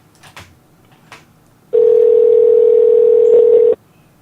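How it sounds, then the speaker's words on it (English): Faint rustling noises come first, then a telephone tone sounds loud and steady for about two seconds before stopping, heard while the caller waits for Dean to pick up. "I wonder if he's gonna pick up the phone."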